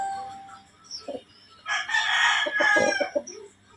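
A white Kelso rooster of the Firebird Game Farm line crows once, loud and close, a long strained call after a few soft clucks and rustles.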